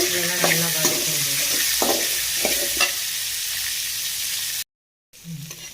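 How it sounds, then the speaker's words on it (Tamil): Pirandai, shallots, garlic, tomato, tamarind, urad dal and red chillies sizzle in a pan under a steady hiss, with a few close scraping strokes of a spatula early on, a brief dropout, then the frying resumes. "பிரண்டை, சின்ன வெங்காயம், பூண்டு, தக்காளி, புளி, உளுந்து, வரமிளகாய் எல்லாம் சேர்ந்து நல்லா வதங்கிடுச்சு."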